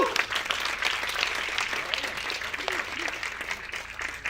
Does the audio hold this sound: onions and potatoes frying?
no